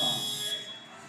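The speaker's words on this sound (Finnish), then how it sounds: "tuo summeri soi teknisen aikalisän merkiksi" Buzzer at a women's volleyball league match sounding a steady, loud electronic tone to signal a technical timeout, heard in an arena before fading.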